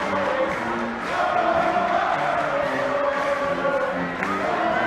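Basketball arena crowd at a Wheaton vs. Elmhurst game roaring through a timeout: sustained loud cheering and yelling from a packed house, with whoops rising over the steady din.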